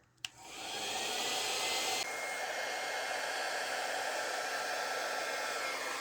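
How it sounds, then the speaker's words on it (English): A hair dryer switches on with a click and blows steadily at full power, a loud constant whooshing hum that continues without pause. "now I'm going to use my blow dryer"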